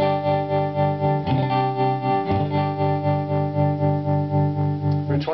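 An electric guitar chord through a tremolo pedal with its depth turned up sustains with a pulsing, wavering effect, volume throbbing rapidly and steadily throughout, with a couple of restrikes.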